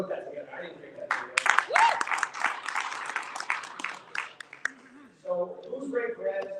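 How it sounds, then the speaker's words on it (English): A room audience breaks into a short burst of clapping in a speaking event, rising and fading over a few seconds, with voices talking before and after. "let's give a round of applause for my team"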